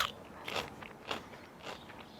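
Fresh crunchy garden peas bitten and chewed up close, four or five crisp crunches spaced about half a second apart, quiet and alone with no talking.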